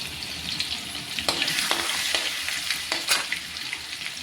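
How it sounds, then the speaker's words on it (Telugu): Chicken frying in a pan with onion and green chilli added, a steady close sizzle with crackling spatters and a few scraping stirs. "ఇప్పుడు ఈ ఆనియన్ మిర్చి వేసుకున్నాం."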